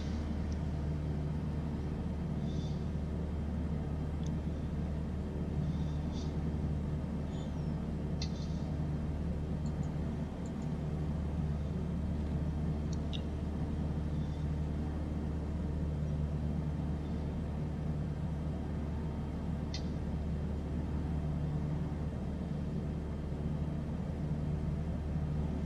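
A small bush plane cruising over Alaska drones steadily from inside the cabin, a constant low engine hum and propeller rumble with no change in pitch for the whole stretch, and no voices.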